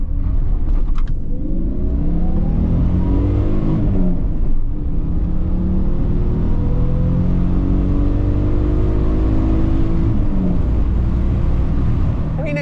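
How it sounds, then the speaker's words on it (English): A Toyota Supra Mk2 engine growls under acceleration at lower revs, its pitch climbing steadily, dropping at a shift, then climbing again, loud and close from inside the car. "the little growl at lower revs when you put your foot down"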